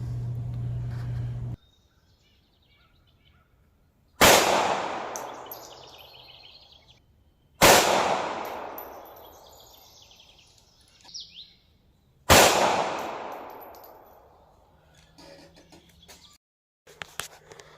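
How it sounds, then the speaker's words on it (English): Three sharp, loud pistol shots of .380 Fiocchi Defense Dynamics ammunition ring out at a shooting range, each decaying with a long echo and spaced several seconds apart, with faint handling noise between them. "We'll go to the range and we'll shoot some of these and we'll see how they do."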